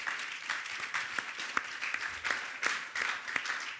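Audience clapping at a live conversation event, a steady round of applause from a crowd with sharp individual claps standing out, moderately loud and continuous throughout.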